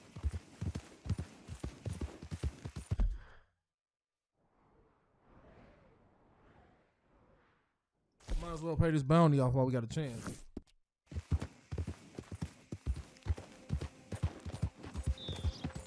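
Horse hooves clip-clop in a Red Dead Redemption game scene, a steady trotting rhythm close by that mixes with spoken dialogue and game sounds, with a quiet gap in the middle.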